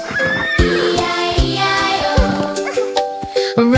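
A horse neighs within a children's farm-animal song, its whinny rising over bright musical accompaniment with jingling bells, loud and close.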